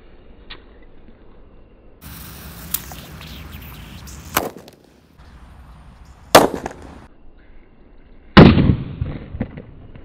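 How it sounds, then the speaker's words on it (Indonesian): A purple disco happy flower firecracker is set off beside a yellow balloon, hissing and crackling with several loud sharp pops and bangs spaced over a few seconds. "Langsung saja kita nyalakan mercon disco happy flower warna ungu dengan balon warna kuning guys"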